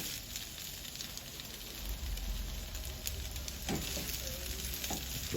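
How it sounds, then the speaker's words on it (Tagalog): Beef sirloin fillet stir-fries in a hot pan, giving a constant close sizzle and hiss with occasional scrapes and stirring clinks. "Stir fried beef sirloin fillet recipe."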